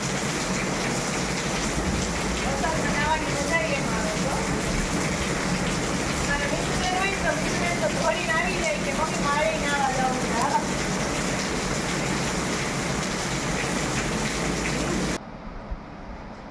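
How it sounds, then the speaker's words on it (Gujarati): Steady heavy rain pours down continuously, a dense hiss of drops on surfaces, with voices faintly audible beneath it before it suddenly cuts lower near the end. "કેવો મસ્ત વરસાદ આવે છે"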